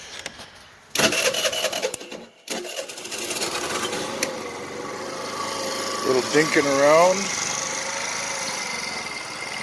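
Small older moped engine being kicked over and started one-handed, rasping mechanical scrapes and turning noises followed by a sputtering, wavering engine note, with someone talking briefly over it.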